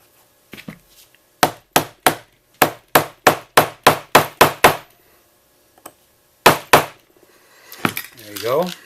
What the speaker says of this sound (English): This is, I guess, I don't know, you call them a smash rivet or a star rivet with its own tool.